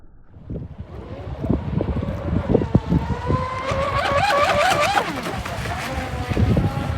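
A fast RC catamaran speedboat running on open water: a high electric motor whine swells and wavers as the throttle rises, then cuts back, over heavy wind buffeting and splashing.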